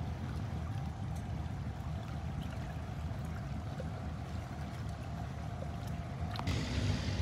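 A wooden cargo boat motors through a sluice gate on a canal in Vietnam, a steady low engine drone mixed with rushing water, continuous and fairly close throughout.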